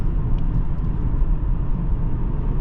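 A 2004 Lexus LS430 engine drones under acceleration on a test drive, a steady, fairly loud low rumble heard from inside the car, with no speech.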